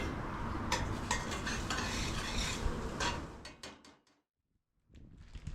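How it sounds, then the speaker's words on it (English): Onions and bell pepper sautéing in a pot for alligator chili, a steady crackling sizzle with stirring scrapes that fades out into near silence before faint sizzling returns. "Let the onions and the bell pepper get a little translucent."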